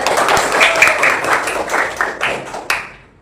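Children clap their hands together in a classroom, a run of sharp, fairly close claps in loose rhythm lasting about three seconds, ending with one louder clap before it fades.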